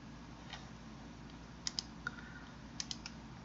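A handful of sharp, faint clicks from a computer mouse or keyboard, sparse and irregular, while confirming a dialog in SPSS in a quiet room.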